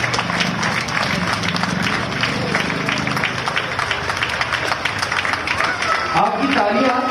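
An audience at an Azadi Ka Amrit Mahotsav celebration applauds in a loud, continuous stretch of crowd clapping, with someone speaking over it the whole time.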